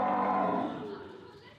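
A cow moos once, loud and close, a long sustained lowing that fades out over its last half; one of the cows cared for by a devout Hindu volunteer in India.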